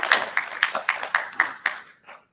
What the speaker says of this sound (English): So I'd like to offer those guys a round of applause as well.